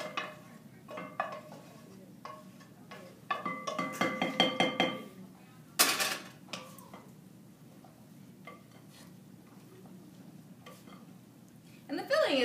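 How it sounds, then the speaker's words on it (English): A utensil clinks and scrapes against a bowl while stirring spanakopita filling, a quiche-like mix, in a kitchen demonstration, with irregular close taps, a clustered burst of rapid knocks and a sharp clatter between quieter pauses. "I'm actually going to stir it together first."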